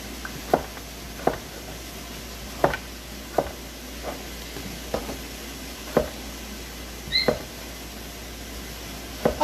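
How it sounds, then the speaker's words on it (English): Knife chopping vegetables on a cutting board for sausage soup: sharp, evenly spaced single thuds about once a second, close and clear over quiet room noise, with a brief clatter near the end. "Get all this chopped."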